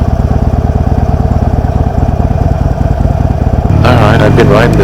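A 2016 Harley-Davidson Sportster Iron 883 rumbles steadily with a close, loud engine pulse while being ridden, its note rising and roughening near the end as the throttle opens.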